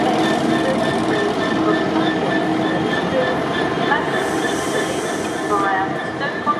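A train arrives at a platform at Stafford railway station, a steady rumble with faint squeals and clatter, while a public address announcement plays over it throughout.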